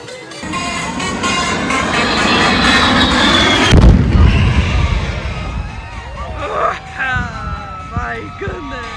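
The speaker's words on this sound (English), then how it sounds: "where he will simulate dropping a 500-pound bomb" A simulated 500-pound bomb explosion at an air show goes off with a loud, deep boom about four seconds in, cutting through constant jet roar and crowd hubbub, and a commentator talks over the scene.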